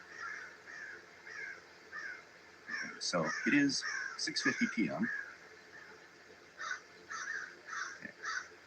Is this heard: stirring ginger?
no